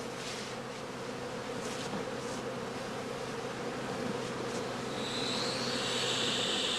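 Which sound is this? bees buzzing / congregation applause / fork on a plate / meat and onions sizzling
bees buzzing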